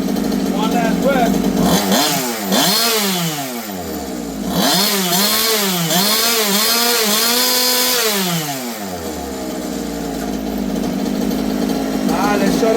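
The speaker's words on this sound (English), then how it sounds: "The FG with the SCS airbox in it." The FG 510 two-wheel-drive model engine with an SCS airbox runs loudly up close, a raspy two-stroke buzz that repeatedly revs up and down in quick throttle blips before settling back to a steady idle.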